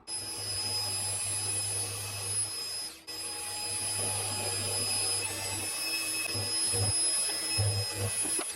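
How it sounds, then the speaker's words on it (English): A steady machine whine and hum as a small chamfering tool cuts a cast aluminium sculpture, loud and continuous with a brief dip partway and faint clicks and knocks near the end. "I'll get that tool out of there and put that little chamfering tool in"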